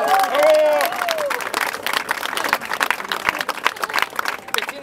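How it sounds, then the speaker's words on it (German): Audience applause at an open-air fountain festival on Munich's Viktualienmarkt, a steady crowd clapping that carries through the whole stretch, with a voice briefly heard near the start. "Das ist ein Applaus hier, meine Damen und Herren."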